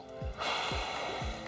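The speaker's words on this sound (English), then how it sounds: "Breathe in, hold it, and exhale." A sharp inhaled breath followed by a long forceful exhale, with a few short breathy gasps, close and alone during a floor workout exercise.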